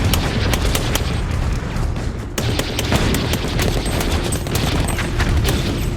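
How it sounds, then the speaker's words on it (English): Belt-fed machine gun fire in a World War II battle, loud rapid bursts of shots crackling continuously with booming reports mixed in, dense and close throughout with no speech. "Then he'd flip up the top cover of the machine gun, lay another belt down in the weapon, close the top cover, rack the bolt, and continue firing."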